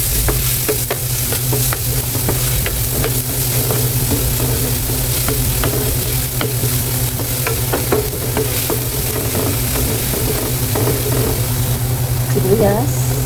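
Plenty of chopped garlic sizzles steadily in a small amount of hot oil for a Bicol Express with milkfish, with utensils scraping and stirring the pan throughout at close range.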